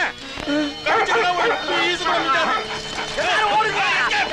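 Several dogs barking and yipping in a busy comedy film scene, the barks overlapping with loud voices and music throughout.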